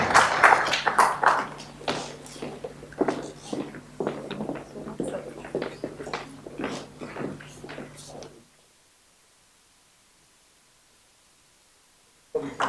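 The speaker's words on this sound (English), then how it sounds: "can we please sound a round of applause for V4Web?" Audience applause at an IT awards event: irregular hand claps, some loud and some scattered, ring out for about eight seconds, then stop abruptly into near silence before a brief burst at the very end.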